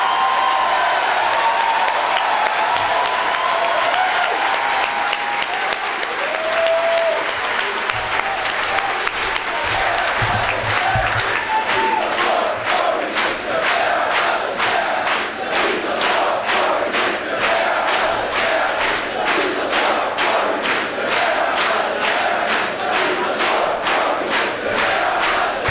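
An audience applauding steadily throughout, with sustained dense clapping and scattered cheers that build toward rhythmic clapping near the end.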